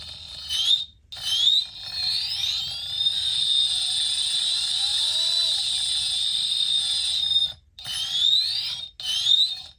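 A high-pitched electric motor, dropped from 2100 kV to 760 kV, whines steadily as it spins, with brief pauses and rising pitch sweeps as it spins up again.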